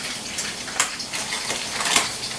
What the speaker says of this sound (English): To that I'm going to add a half a cup of water.